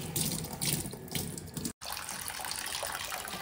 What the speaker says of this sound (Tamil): 2 தடவை பைப் தண்ணியில் பாசிப்பருப்பில் உள்ள தூசிலாம் போகிற அளவுக்கு நம்ம கழுவிக்கலாம்